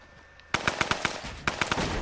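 SMG gunfire in the Fortnite video game, loud rapid bursts of shots in two strings separated by a short pause, close and without talk.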